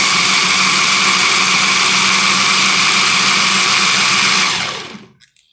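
Electric blender grinding chili for harissa, a loud steady whirring motor drone that runs unbroken and then winds down to silence at the end.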